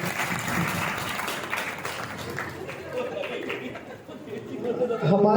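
A crowd at a Guru Purnima festival applauds steadily, the clapping dense and sustained, with murmured chatter underneath, swelling louder toward the end.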